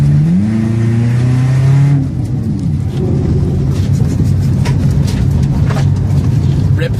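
A weight-reduced car driving off-road revs hard, its engine tone rising and holding, then dropping as gears change. Close, loud engine roar continues with rough rattling and thumps over uneven ground.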